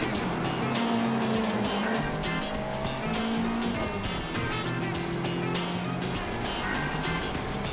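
A Lotus Elise sports car driven hard on a fast lap around a test track, its engine roaring loud and steady through a corner with tires squealing in long, drawn-out cries.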